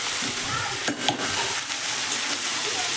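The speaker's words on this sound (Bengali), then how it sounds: "এবার আমি এই সবজিগুলো এর মধ্যে দিয়ে দেবো" Steady frying sizzle fills the clip as broccoli stems and vegetables are stirred into fried tomato in a pan, with a few scraping clatters near the middle.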